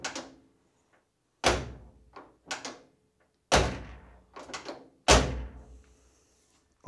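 A classic Porsche 911 door with a rebuilt, adjusted striker swings shut with a solid thunk and latch, repeated several times in short bursts with quiet pauses between.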